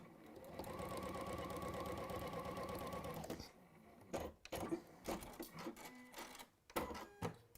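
A sewing machine stitches a quilt in a steady rapid mechanical chatter for about three seconds, then stops, leaving softer clicks and handling knocks from the machine.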